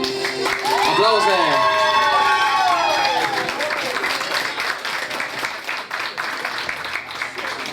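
Loud, sustained audience applause with cheering greets a couple called onto the stage at a lively public event in Sibiu, Romania, while a background melody, shouts and other voices carry through the dense clapping.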